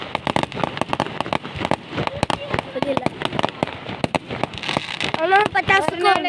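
Firecrackers burst in a rapid crackling string, sharp loud pops tumbling over one another at close range, with people talking over the final stretch.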